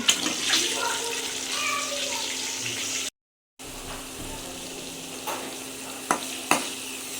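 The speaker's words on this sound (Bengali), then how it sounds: "তো ডিম রান্নার জন্য পেঁয়াজ কাঁচামরিচ দিয়ে দিচ্ছি" Eggs frying with onion and green chili on a stove in a village kitchen produce a steady hiss. The sound cuts out briefly, then returns with a few sharp utensil knocks near the end.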